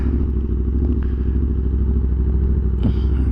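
A 2020 Aprilia RSV4 1100 Factory motorcycle engine runs steadily up close, a continuous low throbbing rumble with a brief clatter near the end.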